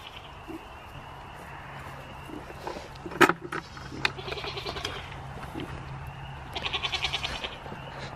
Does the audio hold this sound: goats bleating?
yes